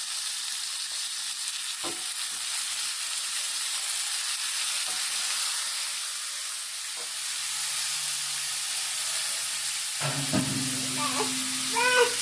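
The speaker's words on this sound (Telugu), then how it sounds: "యాటకాళ్ళు, గ్యారకాళ్ళు ముక్కలు అయితే వేసేసుకోవాలి." Goat trotter pieces fry in a new cooking pot with a steady, loud sizzle and hiss, broken by a few metallic clanks and a short low hum near the end.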